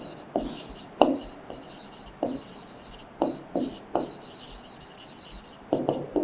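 Pen or chalk writing out a maths problem about a number of purses in a classroom lesson: irregular short scratchy strokes in bursts, close and moderately loud, with no speech.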